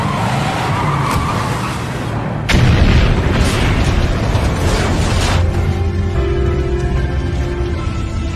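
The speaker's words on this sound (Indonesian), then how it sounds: "meledak." A sudden loud boom erupts after a rumbling engine-like roar as a car crashes into a laboratory, followed by a broad crackling blast that slowly settles into a lingering hum.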